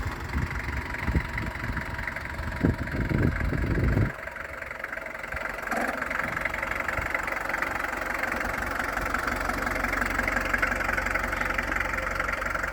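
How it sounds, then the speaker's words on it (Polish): A 1983 Ford Transit camper diesel engine idles close by with a continuous low rumble; some knocking thumps early on, then an even, unbroken hum. "ten silnik sobie pracuje."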